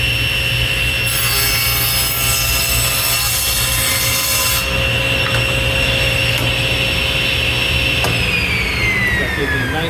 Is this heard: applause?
no